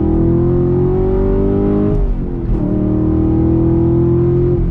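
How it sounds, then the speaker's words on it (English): A 2020 Chevy Camaro SS muscle car engine roars steadily at high revs, dipping briefly midway as if shifting, then climbing again with a deep, rumbling tone. "That classic muscle car sound"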